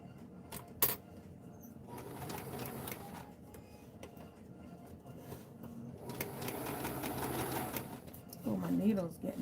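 A sewing machine top-stitches a seam through padded dress-form fabric. Its mechanical whir and rhythmic ticking comes in stretches at moderate, close volume, with brief bumps of handling noise and a voice faintly underneath.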